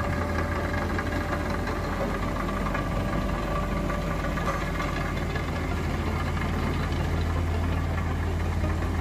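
A vibrating compaction machine works at an excavation site, giving a steady, loud engine drone with a continuous low rumble and throbbing vibration throughout, with no speech.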